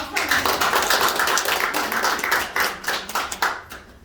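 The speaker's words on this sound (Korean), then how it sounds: "박수" Steady applause from an audience at a company meeting in Daegu, dense clapping throughout with a few sharper individual claps toward the end, mixed with some crowd murmur.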